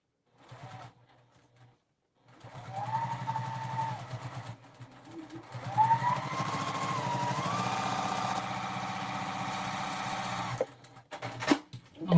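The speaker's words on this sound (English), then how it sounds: "So I sewed all the way down" A sewing machine stitches the seam of a quilted Flatmate pouch made from Lori Holt Berry and Sage fabric. A short burst of whirring is followed by a longer, steady run of close, loud motor hum and needle chatter.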